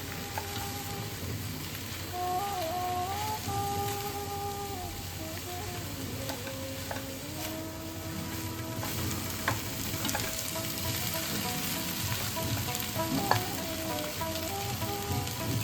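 Raw mango and salt sautéed in a pan, a soft, steady crackling sizzle with occasional scraping of a spatula, fairly faint and continuous throughout, with some faint tonal background hum.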